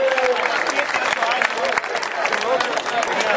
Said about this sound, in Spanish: Fuerte el aplauso para todas las peñas de San Luis de todo el campo de San Pedro.